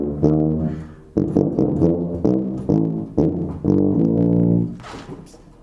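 A tuba plays the last four bars of a study piece alone, a series of loud, sustained low notes in short phrases with brief breaks between them, close and clear.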